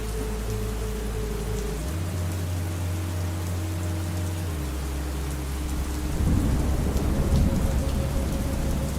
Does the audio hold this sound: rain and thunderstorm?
yes